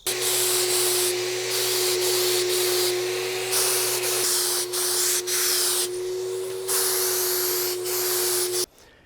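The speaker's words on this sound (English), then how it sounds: "I'm going to spray a water-based poly using a 4-stage high volume, low pressure" A four-stage high volume, low pressure sprayer applies water-based polyurethane to a wooden washstand, a loud, continuous hissing airflow over a steady turbine whine, with brief dips as the trigger eases, then stopping abruptly near the end.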